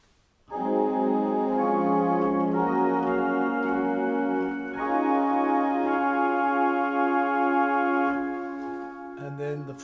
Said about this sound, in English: The third sound is the strings.